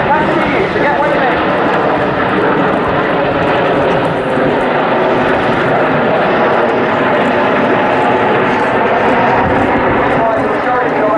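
Red Arrows jets roaring overhead during the Eagle roll display at RAF Waddington, a loud steady jet rumble under a commentator's voice.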